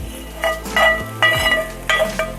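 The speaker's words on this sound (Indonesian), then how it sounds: "Sekarang kita giling" Boiled shrimp crushed on a stone grinder, close rough scraping and grinding strokes coming in short bursts with brief pauses between them.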